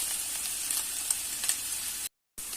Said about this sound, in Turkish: Tavuklarımızı nar gibi olana kadar kızartıyoruz arkadaşlar.